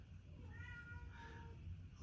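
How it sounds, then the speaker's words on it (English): Pet cats meow faintly in the background of a quiet indoor room, a short drawn-out mew or two. "You could probably hear my cats back here."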